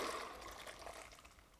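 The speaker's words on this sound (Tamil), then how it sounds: "இப்போ சுண்டல் வெந்துருச்சுங்க தண்ணி வடிச்சிட்டு எடுத்துக்கலாம்" Water from boiled chickpeas drains off for sundal, a faint steady trickle and pour lasting under two seconds with no talk over it.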